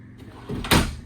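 A single soft thud as a soft-close silverware drawer in a 2025 Forest River Flagstaff Classic travel trailer glides shut, a muffled close at near range with no talking.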